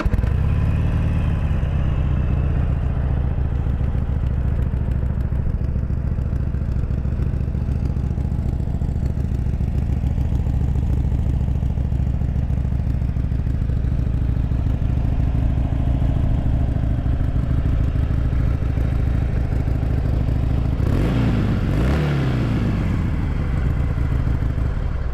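Idling Harley-Davidson Sportster 883 Iron XL883N motorcycle engine, a loud steady low rumble throughout, with a short rise in revs near the end, no talking.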